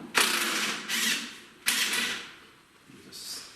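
A ratchet wrench with a socket loosens a nut, giving a few short bursts of close ratcheting clicks separated by brief pauses.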